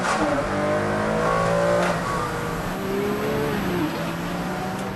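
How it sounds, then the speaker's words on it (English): A car engine revs hard while cornering, with sharp throttle blips on downshifts rising and falling over a steady loud engine drone, close and alone without talk. "Brake, blip, change down later, Tim. That's what this car wants"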